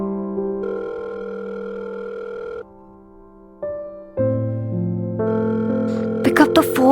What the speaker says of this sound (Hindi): आयुष को फोन करने की कोशिश कर रही थी, पर वो उसका फोन बार बार डिस्कनेक्ट कर रहा था